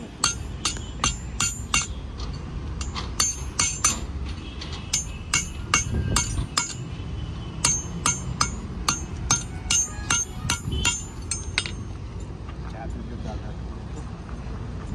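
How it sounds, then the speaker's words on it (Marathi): Old horseshoe nails are pried and hammered out of a horse's hoof: a steady run of sharp metallic taps and clinks, grouped in quick bursts with short pauses between them, while people talk throughout. "जुन्या नालाचे खिळे काढायचं काम चाललेले बघा"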